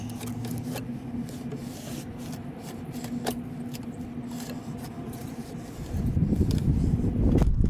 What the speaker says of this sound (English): we're just going to give it a good old wipe